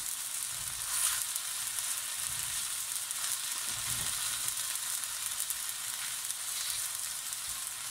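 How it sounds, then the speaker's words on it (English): Vegetables for a vegetable jalfrezi frying in a pan, a steady close sizzle with crackling that runs unbroken throughout, no voices. "How long will you fry that for"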